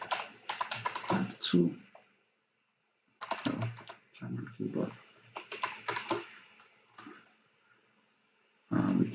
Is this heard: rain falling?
no